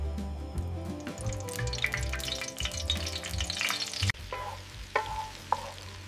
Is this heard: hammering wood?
no